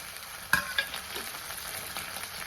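Chopped tomatoes tipped into onions frying in hot oil for a cauliflower bhaji: a sharp burst of sizzling as they land, followed by a steady, close crackle of frying with small spatters.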